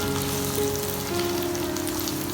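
Onions frying in hot oil after garlic for a lauki chicken curry, a loud, dense, continuous sizzle heard close up with no voices over it.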